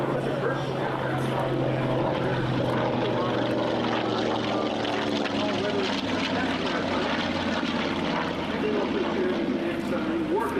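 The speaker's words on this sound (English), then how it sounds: "The TBM Avenger is now passing over ahead." A TBM Avenger propeller aircraft passes overhead at an air show on the beach, its engine a loud, sustained drone that fills the whole stretch with a slowly shifting pitch.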